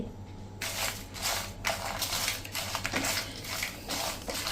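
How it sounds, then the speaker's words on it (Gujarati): Dry red chillies roasting in a pan without oil, giving a close, dry rattling and scraping as they are stirred, with uneven bursts of clinking and rustling. "તેલ વગર જ આપણે આ સૂકા લાલ મરચાંને શેકશું, સહેજ ક્રંચનેસ આવે ને એટલા જ."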